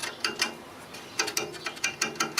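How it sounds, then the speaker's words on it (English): Inside a Sanyo Betacord VCR the mechanism turns with its idler, giving a rapid series of small clicking, ratcheting ticks in irregular bursts, close and fairly quiet. "That idler turning? It might work. Oh, it all turns."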